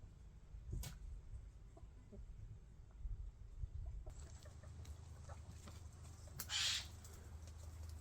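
Hens from a backyard flock of about two dozen cluck and murmur close by, with a few sharper calls standing out over a steady low farmyard rumble.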